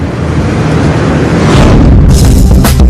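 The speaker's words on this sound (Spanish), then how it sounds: "El freno Jake utiliza el propio motor del camión para reducir y controlar la velocidad del vehículo mientras desciende por una carretera inclinada." A truck's Jake engine brake on a downhill road gives off a loud, continuous low rumble that turns into a harsher, pulsing rattle toward the end, with no voices.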